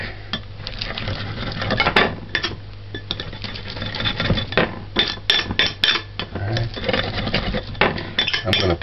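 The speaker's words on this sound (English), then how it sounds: "Crush the garlic." Garlic being crushed in a busy kitchen while pumpkin seasoned rice is prepared, heard as steady clattering of pots, utensils and metal scraping, with sharp knocks and clinks scattered throughout.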